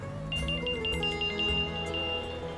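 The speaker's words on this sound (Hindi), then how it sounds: "अंकिता का फोन" A phone rings in a Hindi TV serial scene, a repeating electronic ringtone pattern of short tonal pulses sounding over a soft background music bed, with no talking.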